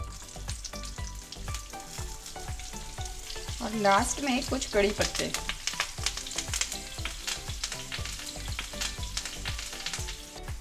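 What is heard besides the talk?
mustard seeds and spices sizzling in oil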